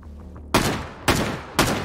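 Gunfire in a Tarkov or H3VR shooter game: three sharp, loud single shots spaced about half a second apart, each with a brief ringing tail, over a low background hum.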